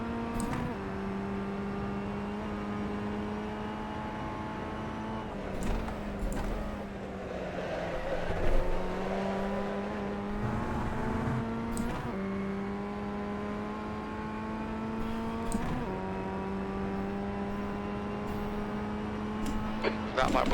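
A Formula Ford FF1600 race car engine laps Oulton Park in iRacing, a steady buzzing drone that rises and dips with shifts and corners throughout, with a voice talking over it.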